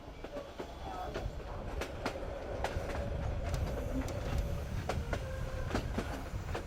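A train rumbles steadily along the rails through a winding canyon in Vietnam, with intermittent sharp clacks and clicks from the wheels, moderately loud and continuous.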